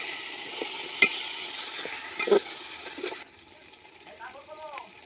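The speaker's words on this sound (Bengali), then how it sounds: "এবার ঢাকনাটা খুলে দিলাম নাড়াচাড়া করে নিলাম" A pot of mutton curry with garlic and ginger paste, stirred right after the lid comes off: a few scrapes and knocks against the pot over a soft sizzle, then quieter, with a faint voice near the end.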